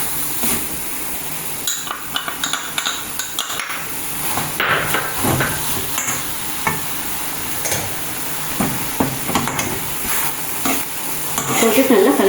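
Ground cashew and almond powder is stirred in a hot pan for a lavang lata sweet, with a continuous low sizzle under repeated spoon scrapes and clinks against the pan. The sound is close and steady.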